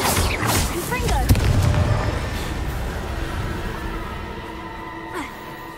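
A Confringo explosive curse goes off in the Hogwarts Legacy video game: a loud, close blast bursts in the first second, then fades into a long ringing, crackling tail with a voice faintly underneath.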